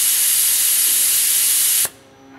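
Compressed air bursts from the dump valve of a Haas CNC machine's air system as a loud, steady hiss that cuts off sharply, leaving a faint hum, with no talking.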